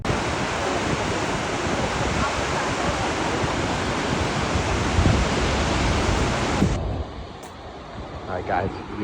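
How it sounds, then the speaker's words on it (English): Broad, steady roar of a waterfall in Iceland, loud and close, filling the air without a break for most of the stretch before dropping abruptly to a quieter, more distant rush near the end. "Alright guys, we are at a waterfall."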